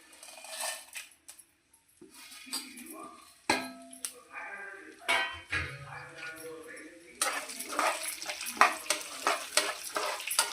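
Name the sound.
urad dal, chana dal, mustard, cumin, red chillies frying in tempering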